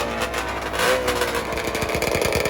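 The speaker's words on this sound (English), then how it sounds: "Snowmobile engine." Loud 1000cc Rotax triple snowmobile engine on a nitrous two-stroke drag racing machine, a continuous raspy engine roar with rising revs and rapid pulsing toward the end, close and alone.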